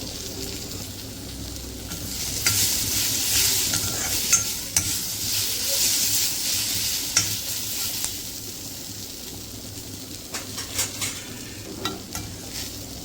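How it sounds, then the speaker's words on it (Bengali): Steady sizzling of sliced onion and green chillies frying in hot oil, with occasional scraping and stirring clicks from a utensil in the pan. "পেঁয়াজটা হালকা ভাজা হয়ে গেছে, এখন দিয়ে দেবো কাঁচা লঙ্কা"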